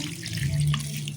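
Sprite poured into a pot of simmering adobo, a steady liquid pour with a bright fizzing wash lasting about a second, close and fairly loud with no talk.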